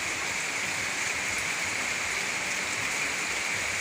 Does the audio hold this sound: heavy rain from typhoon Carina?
yes